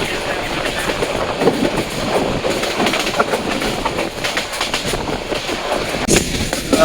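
Train ride from Feni to Sreemangal through tea-garden country, heard from inside a carriage: steady wheel rumble with repeated clickety-clack of rail joints, loud and continuous throughout.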